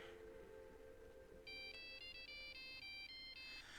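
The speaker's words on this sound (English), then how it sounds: "that's the ringtone of the satellite phone that Pilot had when he got eaten in Jurassic Park 3" Satellite phone ringtone from Jurassic Park 3, heard in the video game ARK: a bright electronic trill of repeating high tones that starts abruptly partway through, fairly loud over faint ambient game sound.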